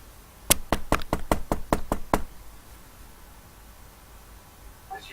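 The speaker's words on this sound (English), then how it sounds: "How do you knock?" Knocking on a door during a Vampire the Dark Ages tabletop session, a quick run of about nine sharp, evenly spaced raps, fairly loud and close, followed by quiet room tone.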